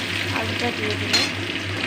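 Potatoes sizzle as they fry in a pan and get stirred, a steady close frying hiss that runs throughout, with a brief louder scrape near the middle.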